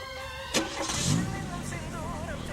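A car engine cranks and catches about halfway in, then runs and pulls away while a melodic song plays over it.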